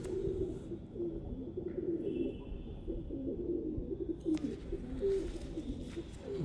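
Pigeons offered as a gift pair coo steadily and fairly close in a low, continuous murmur, with a few faint higher chirps and some rustling from nearby.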